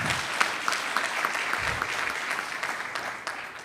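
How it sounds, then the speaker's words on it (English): Conference colleagues at the Jamaica Teachers' Association annual conference give steady applause, a dense patter of many hands clapping that holds evenly throughout. "colleagues will have to applaud Prof again"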